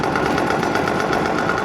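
Yamaha PW80 small two-stroke motorbike engine running steadily after a kick start, a loud, close, even buzzing drone with no talk.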